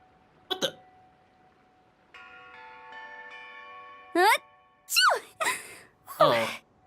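Several short, sharp sneeze-like bursts from an animated game character, spread over a few seconds, with a soft chiming tone in between and a brief vocal exclamation near the start.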